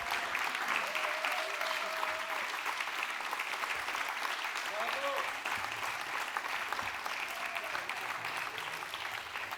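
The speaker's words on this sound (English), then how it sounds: "They truly deserve a big round of applause." A big audience at a conference closing session claps continuously, a dense steady wash of applause that stays loud throughout.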